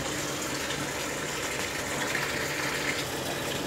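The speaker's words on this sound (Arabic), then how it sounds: "وكده بقى الغساله بتبتدي تملى ميه على المسحوق" Toshiba 11 kg top-load automatic washing machine filling with water onto detergent powder, a steady soft gushing hiss of running water, continuous and even, with no voices.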